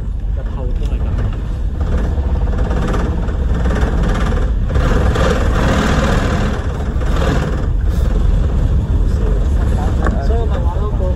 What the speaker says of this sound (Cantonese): 個引擎幾勁